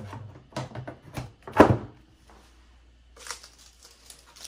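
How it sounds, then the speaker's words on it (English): A plastic back door panel is fitted onto an R2-D2 droid model, giving a series of close, quiet clicks and handling taps followed by one sharper snap. Faint rustling follows after a short pause. "Put his back door back on."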